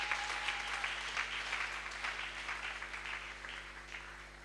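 A church congregation claps together after the scripture reading, a sustained round of applause over a low steady hum that slowly fades.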